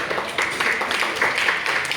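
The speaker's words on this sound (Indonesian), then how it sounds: "tepuk tangan untuk dia" Audience at a speech competition applauding a participant, a brief patter of clapping at moderate volume, fairly close and steady.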